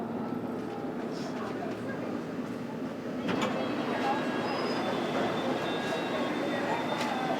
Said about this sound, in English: This is a fast Metropolitan line train to Amersham